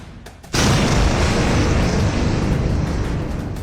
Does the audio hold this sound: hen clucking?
no